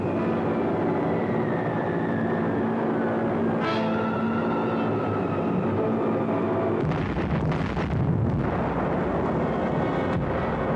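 A steady engine drone from a B-24 bomber over Messina carries a brief falling whistle, then gives way to a heavy, rumbling burst of bomb blasts below.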